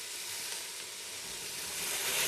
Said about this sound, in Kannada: ಸ್ವಲ್ಪ ಎಣ್ಣೆಯಲ್ಲೇ ಫ್ರೈ ಆಗ್ಬೇಕು ಅಂತ.